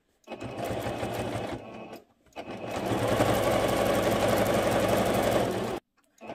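A sewing machine stitches the edges of a cross-stitch pillow cover, running in a short burst, pausing, then running again in a longer steady stretch of close, busy mechanical whirring.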